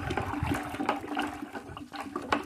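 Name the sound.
stirring a liquid product in a container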